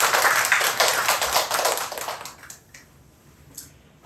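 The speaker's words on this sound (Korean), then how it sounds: "우리 일단 박수로 환영해 주시기" A church congregation claps in welcome during a Sunday service, a brief burst of dense clapping that fades away after about two seconds into near quiet with a few faint taps.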